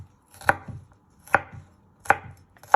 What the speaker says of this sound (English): And you just want to slice it